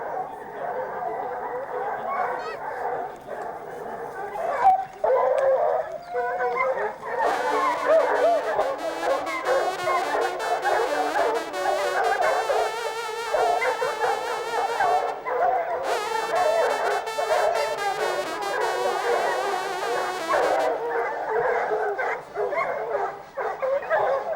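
A pack of hunting hounds bays while chasing a young stag, many dogs yelping and giving tongue together in a continuous excited chorus, with a voice talking over it and bursts of brassy hunting horns.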